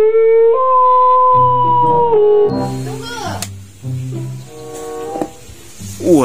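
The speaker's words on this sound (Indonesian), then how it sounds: "Wow, di sini ada serigala." Wolf howls from Jurassic World Evolution 2 gameplay, a long rising and falling wail followed by several shorter overlapping howls and yips, loud and close over game music.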